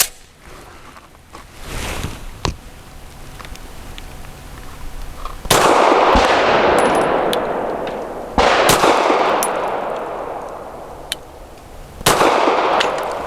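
Grand Power P1 Ultra pistol firing Federal Syntech Action Pistol red-tip ammo, sounding as several sharp, loud shots spaced a few seconds apart, with each report ringing and decaying over a steady outdoor background.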